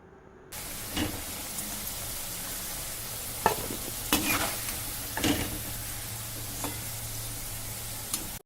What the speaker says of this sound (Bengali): আলুগুলো আমার ভাজা হয়ে গেছে